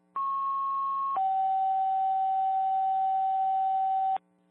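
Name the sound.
fire department dispatch paging tones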